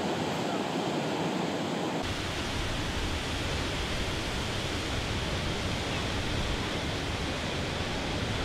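Pacific Ocean surf at a beach, a steady, dense wash of breaking waves with wind buffeting the microphone, continuous and fairly loud with no distinct individual crashes.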